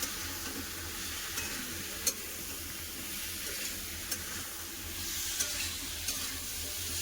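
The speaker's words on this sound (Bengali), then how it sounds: "কেটে রাখা সবজি দিয়ে দেবো কুমড়ো ঝিঙা আর আলু মশলাটাকে ভালো করে কষি নেব" Pieces of pumpkin, ridge gourd and potato fry with spices in a pan, giving a steady close sizzle and hiss broken by a few sharp spatula taps, with no talking.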